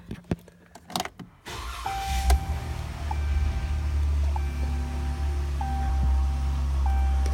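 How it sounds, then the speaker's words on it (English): A 2014 pickup truck with 21,474 miles starts after a few clicks and a brief crank, then settles into a steady low idle with faint electronic chimes sounding at intervals, close to the cab. "Go ahead and start the truck up and let you see what it looks like"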